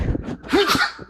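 A single sharp sneeze bursts out close by, with a quick breathy intake and nasal release, brief and fairly loud.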